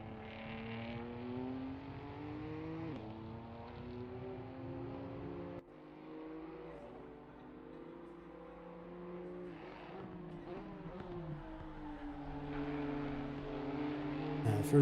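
Simulated BMW M2 race car lapping Donington in a multiclass sim racing game, engine revving and shifting through gears with a steady drone, under commentary voices throughout.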